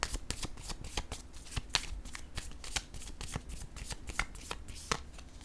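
Tarot cards riffle-shuffled by hand in a rapid, steady flutter of crisp papery snaps, close and fairly quiet, with no talking.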